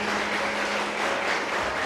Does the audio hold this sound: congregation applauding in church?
yes